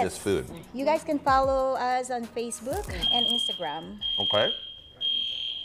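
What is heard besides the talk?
fire alarm going off in TV studio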